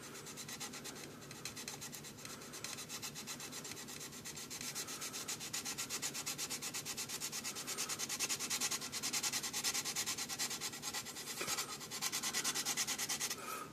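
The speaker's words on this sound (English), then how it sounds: "you just sand it down like you would anything, basically." Steady, rapid abrasive rubbing of sandpaper over a small scale-model car body, shaving drip rails, continuous and close, growing slightly louder toward the end.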